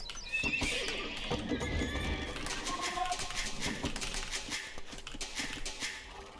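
Cavalry horses in the video game Age of Empires II, a sharp whinny at the start followed by clattering hoof clip-clops and busy battle clicks, rendered as game sound effects.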